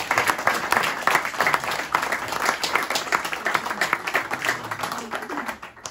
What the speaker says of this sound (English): let's start off with a big round of applause for the two current chatelaines of the House